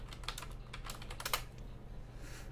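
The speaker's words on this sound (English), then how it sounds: "That's typing" Rapid clicking of computer keys, with a dense burst of typing that tapers off over a low steady hum; no one speaks.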